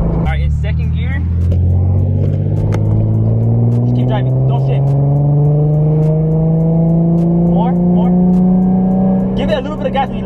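An E85-tuned Nissan 350Z engine pulls in second gear, its drone rising steadily in pitch for several seconds, loud and close from inside the car, with voices talking over it at the start and end.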